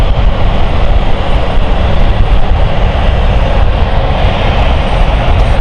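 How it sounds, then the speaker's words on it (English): Loud, close, steady roar of a fixed-wing aircraft engine at London City Airport, holding an unbroken broadband rumble throughout. "Has to be my favourite aircraft here at City Airport."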